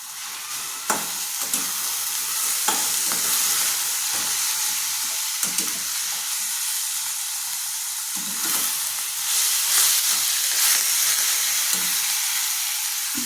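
Fenugreek leaves stir-fried in a pan for methi chutney, a constant bright hiss of sizzling with occasional scrapes and knocks of the spatula, close and fairly loud.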